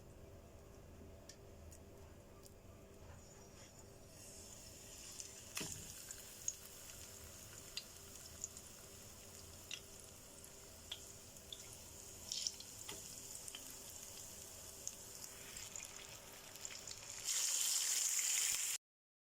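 Tilapia fish frying in a pan of hot oil, a faint, steady sizzle with scattered small pops and ticks, no voices, ending in a brief louder hiss.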